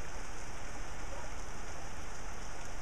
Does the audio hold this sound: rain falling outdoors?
yes